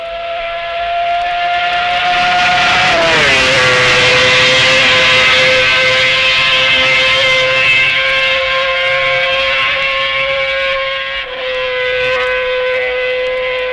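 A Honda racing motorcycle at the 1965 Isle of Man TT screams past as it starts its second lap, a loud, high-pitched tonal wail that drops in pitch once and then holds steady, with no voices.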